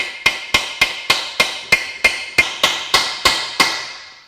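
Twelve sharp metallic hammer strikes on parts of a failed Subaru TR580 CVT transmission land at an even pace, each ringing briefly before the next blow. Nobody speaks.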